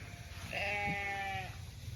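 Hair sheep bleating on a winter stockpile pasture, a single drawn-out bleat of about one second, moderately near, over steady outdoor background noise.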